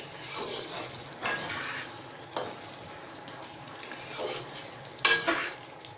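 Chicken karahi frying dhaba style in a karahi over medium-high heat, a steady sizzle broken by several louder scraping stirs of a utensil against the metal pan, close and with no talking.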